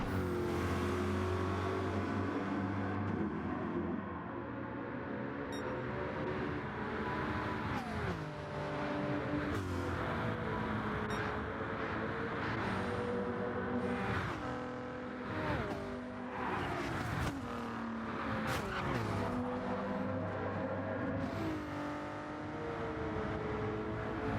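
Race cars roar past one another in a racing game, engines droning and swelling steadily as they pass, with some tire noise mixed in and no talk.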